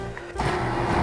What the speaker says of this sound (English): This one does have the induction motor.